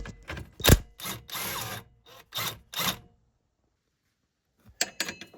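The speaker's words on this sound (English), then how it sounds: "And then back out the lower nut." Ratcheting wrench backing out the lower front shock absorber nut on a Toyota Hiace KZH, close mechanical clicking bursts in several runs with a pause, then more quick clicks.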